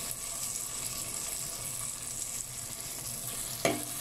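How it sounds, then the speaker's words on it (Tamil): Prawn tamarind curry ingredients sauté in a pan, giving a low, steady sizzle with faint stirring and one brief clink near the end; no voice. "சேர்த்துட்டு இதெல்லாத்தையும் நல்லா ஒரு தடவை வதக்கி விட்டுடலாம்"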